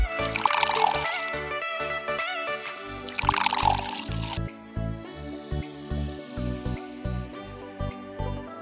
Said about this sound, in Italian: versare il rum scuro, infine aggiungere la ginger beer